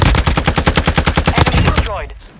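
Rapid automatic gunfire in a video game: about a dozen and a half evenly spaced, loud shots in a fast steady burst, then it stops and a short fading tail remains.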